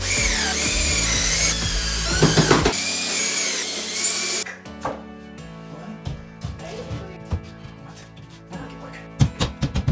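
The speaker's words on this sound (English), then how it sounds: "I need one screw in the drill." A power drill whirs loudly for a few seconds while driving a screw into cement board during a shower installation, then stops and is followed by quieter knocks and handling sounds close by.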